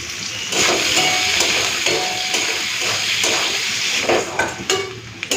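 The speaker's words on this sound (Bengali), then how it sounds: "তো ওই তেলের মধ্যে দিয়ে দিচ্ছি পেঁয়াজ কুচি সামান্য ধরে নুন দিয়ে দিলাম" Chopped onion with a pinch of salt sizzles steadily in hot oil left from frying eggs, a continuous loud crackling hiss with occasional stirring clinks near the end.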